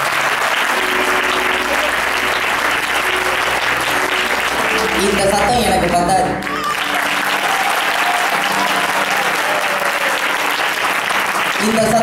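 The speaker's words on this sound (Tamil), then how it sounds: "ஒரு தடவை கை கைத்தட்டுங்க" An audience claps continuously at a gathering, dense, loud, sustained applause filling the whole stretch, with a brief dip partway through before the clapping carries on at full strength.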